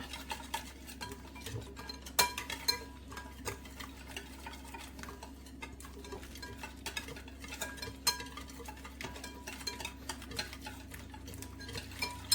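Samosa filling seasoned with cumin being mixed in a bowl, a spoon tapping and scraping the sides in a quick, uneven rhythm of clicks that runs on throughout, close by over a faint steady hum.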